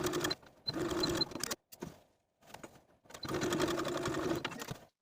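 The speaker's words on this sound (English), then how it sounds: "I'm going to start at the neckline and sew just as far as the facing on the inside" A sewing machine runs in bursts while stitching a blouse neckline facing and backstitching, a close steady whir that stops and restarts with brief pauses between runs.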